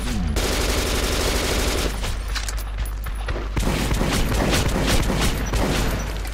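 Incendiary ammunition fires in the video game Metro 2033 Redux as loud, rapid bursts of automatic gunfire with booming impacts and mechanical clatter, continuous and close for the whole stretch.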